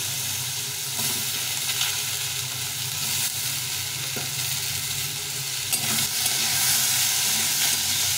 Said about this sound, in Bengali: এই তেলে আলুটাকে ভালো করে ভেজে নেব।